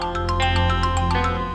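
A phone ringtone plays on its own, a steady electronic melody of short repeating bright tones in a regular rhythm.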